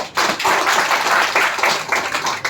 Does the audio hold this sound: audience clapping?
yes